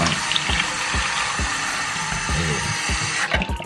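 Warm water runs steadily from a tap into a cup while shoes are being cleaned: a continuous close hiss and splash, with low rhythmic thumps roughly every half second underneath.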